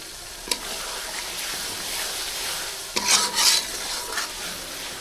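Ginger-garlic, cumin, coriander and chilli paste sizzles gently in a pan with chicken while a spatula stirs and scrapes it, giving a few sharper clinks and rasps against the metal, close by.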